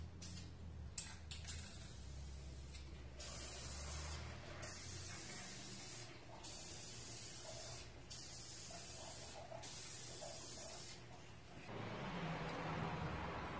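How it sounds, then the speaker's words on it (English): Several separate bursts of an aerosol spray can spraying clear coat onto a tinted tail light, each a sharp hiss of a second or two, with a louder, longer spray at the end. "I shook the can again, and we're ready to spray again"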